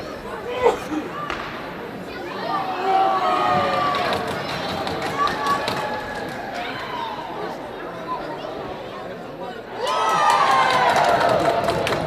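A hockey arena crowd murmurs and chatters during an intermission goalie contest, with a steady roar of voices, scattered shouts and a louder swell of cheering near the end.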